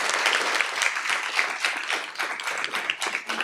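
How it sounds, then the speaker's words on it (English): Steady applause from a crowd at a school board meeting, dense overlapping claps sustained throughout at a fairly even, loud level. "please give them a big round of applause for the work they've been doing"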